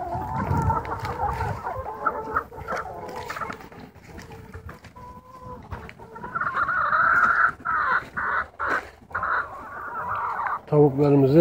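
Free-range farm chickens, one perched on a roof, cluck and call loudly outdoors in irregular bursts, with a rooster-like crow rising near the middle, layered over background noise.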